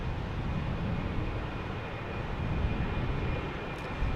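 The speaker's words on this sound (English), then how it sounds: "Delta A319, maybe?" A Delta Airbus A319 airliner at Portland airport gives off a steady, distant, broadband engine rumble that holds evenly throughout with no clear rise or fade.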